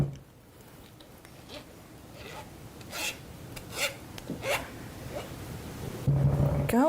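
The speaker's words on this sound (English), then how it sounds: "So we'll just scrape off what's here on the bottom." A utensil scrapes leftover residue off the bottom of a container while making coconut-oil treats in a home kitchen, giving soft, intermittent rasping strokes that stay fairly quiet, with a low hum underneath.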